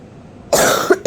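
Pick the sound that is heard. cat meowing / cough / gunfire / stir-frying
cough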